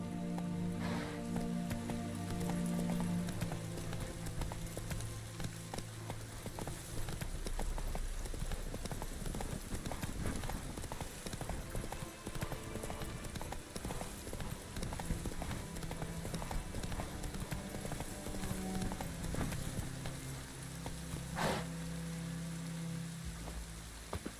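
Roach, Geralt's horse in The Witcher 3, gallops with a rapid, steady clip-clop of hooves that runs the whole time, mixed with rain-like patter and a low musical bed.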